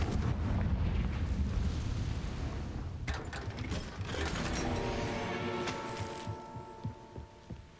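Confringo blasting spell cast in the Hogwarts Legacy video game, a dense rumbling burst with crackling, ratcheting game effects and music continuing over several seconds, loud and without talk.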